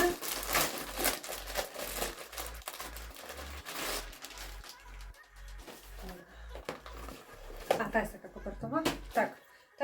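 Hands rustle and tear open a plastic-wrapped LAURELLA dress parcel, sending out close, uneven bursts of crinkling film, while someone talks quietly over the handling.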